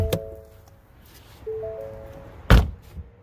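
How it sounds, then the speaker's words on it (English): Door of a 2019 Ford Mustang GT opening with a click, a soft electric whir as the frameless window drops slightly, then a solid thunk near the end, heard up close. "Window drops a little bit when you open the door."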